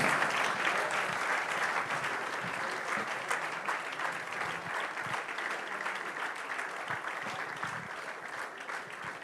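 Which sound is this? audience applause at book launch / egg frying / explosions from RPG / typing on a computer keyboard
audience applause at book launch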